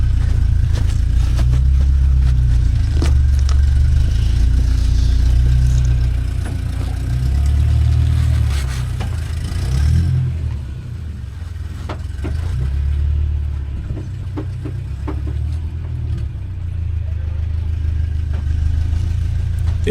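A four-cylinder off-road buggy on 37-inch tires with Toyota axles and lockers works up a climb and turns, its engine loud and close, idling and revving in surges that ease off and rise again.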